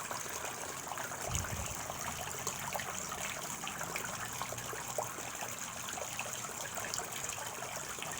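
Steady hiss of water spraying under pressure, a continuous rushing splash with no pauses, fairly close and moderately loud.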